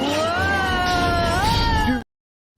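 A single drawn-out cat meow sound effect, loud and close, rising slightly in pitch near the end before cutting off abruptly, with no talk over it.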